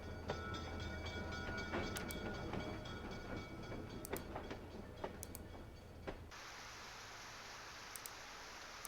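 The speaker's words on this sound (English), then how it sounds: "Am I on like a train or something?" A train rolling along rails, a low rumbling drone with sharp metallic clicks and bright high squeals recurring every couple of seconds, then a sudden shift to a rushing, hissing roar near the end.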